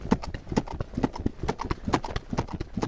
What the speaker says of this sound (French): Alors que Jacob se promène à cheval